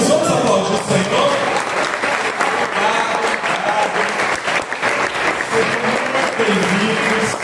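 A church congregation applauds at a New Year's Eve service, with sustained, dense clapping from a crowd close by. Voices can be heard in the background beneath the clapping.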